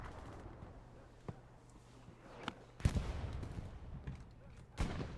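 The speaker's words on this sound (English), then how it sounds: "Satchel goes off? No, artillery." Allied artillery fire in a multiplayer war game scrim lands as several scattered booms, a couple of them heavy and close, over a low rumbling background and faint chatter.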